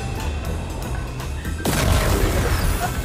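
Gunfire and blasts in Fortnite, a dense continuous barrage with a sudden louder surge midway, near and heavy with rumbling low end.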